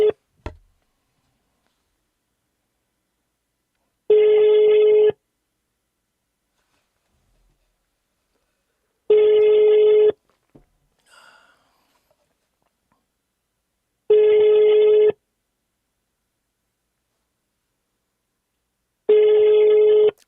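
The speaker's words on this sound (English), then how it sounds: "I don't expect someone overseas to pick up a United States phone call right now." A United States phone call to an overseas number rings unanswered, with four evenly spaced one-second ring bursts separated by about four seconds of silence, clear and alone.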